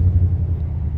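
A 2019 Chevrolet Silverado 1500 High Country's exhaust rumbles close by at the mufflers, a steady deep low idle throb with no talking.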